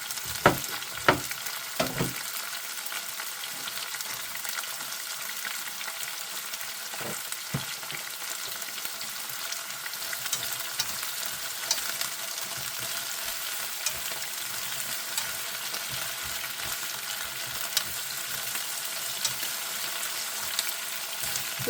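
Asparagus sautéing over high heat in a pan gives a steady, dense sizzle that runs the whole time, with a few sharp clicks and stirring knocks near the start. No voices.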